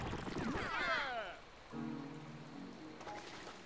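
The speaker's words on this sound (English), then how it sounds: "Is it raining?" Rain patters steadily in the Pikmin 3 video game, a soft even hiss running throughout at low volume, with a voice speaking over the first part and a brief tonal game sound midway.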